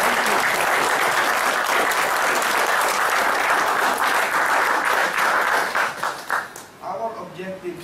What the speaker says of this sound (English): Why don't you give him a round of applause?